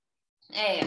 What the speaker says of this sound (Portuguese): Tá miando aqui. Vocês estão ouvindo, gente? Estão ouvindo o gato?